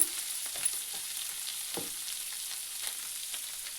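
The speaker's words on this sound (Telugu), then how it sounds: "ఇందులో ఇప్పుడు కొంచెం పసుపు వేద్దాం" Turmeric going into a pan of frying paneer curry, a steady moderate sizzle with light stirring scrapes, close and without talk.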